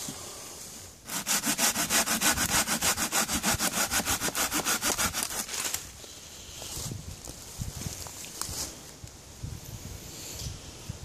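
A Bahco Laplander folding hand saw cuts through wood with fast, even back-and-forth rasping strokes for several seconds, then stops and lighter scraping and rustling follow.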